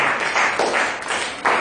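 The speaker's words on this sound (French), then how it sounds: "Donnons une forte acclamation à notre Dieu" A church congregation claps and cheers together in a steady, loud burst of applause that lasts throughout, with no talk over it.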